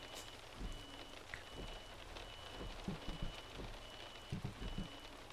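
Rain in Euro Truck Simulator 2 makes a faint, steady hiss of drops pattering on a surface, with soft low thumps scattered through it and no talking.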